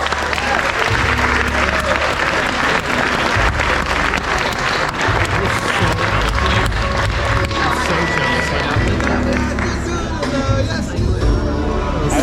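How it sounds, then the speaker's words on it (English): Sustained applause from a wedding crowd, dense and steady throughout, with some cheering and chatter mixed into the clapping. "Nice round of applause"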